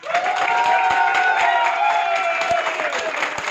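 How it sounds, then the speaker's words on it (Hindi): An audience at a company meeting in Delhi applauds loudly and continuously, a dense wash of clapping close by with a few voices mixed in. "तो मैं चाहूंगा कि अपने लिए एक बार जबरदस्त तालियां बजाएं।"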